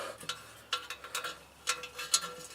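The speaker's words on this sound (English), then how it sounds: "I'm only screwing these in like, just like 3 or 4 threads" Oil pan bolts being threaded in by hand on a 2008 Pontiac Grand Prix 3.8 L: close, irregular metallic clicking and light ratcheting taps over a steady low background hiss.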